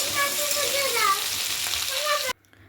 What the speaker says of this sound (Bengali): সুন্দর ভাজা ভাজা হয়ে যাচ্ছে।